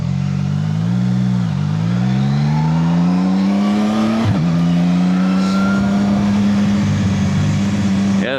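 Cars rev and accelerate past on a street in Old Louisville, Kentucky, loud and near, with engine pitch climbing through the gears, a brief dip midway, then a sustained roar.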